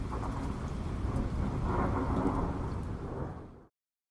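Steady rain pours through a thunderstorm, a dense wash of rumble and hiss holding at even loudness before cutting off abruptly near the end.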